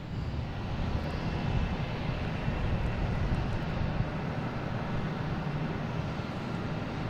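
A Turkish Airlines Airbus A350-900 jet arriving from Istanbul roars as a steady, broad engine rumble at moderate distance, fairly quiet and continuous, with no talk.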